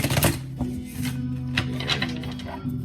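Tarot cards being shuffled during a fire-sign general energy reading, a run of quick papery riffles and soft snaps at close range over a steady low hum, with no talking.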